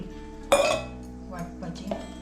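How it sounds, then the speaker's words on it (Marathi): Pots and dishes clank as they are washed in a home kitchen, one sharp metallic clatter followed by a few lighter clinks and knocks of cookware, close by and otherwise quiet. "सगळं असं धुवून घ्यायची भांडी"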